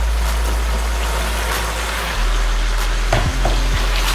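Spices for chicken biryani, Kashmiri red chilli, coriander powder, turmeric, cardamom, tamarind and Bukhara plums, roasting on medium heat, with a steady sizzle over a strong low hum and a couple of utensil knocks near the end.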